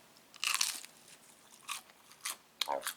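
Several crisp crunches from biting into a crunchy chaffle, close and clear, in short bursts separated by quiet pauses.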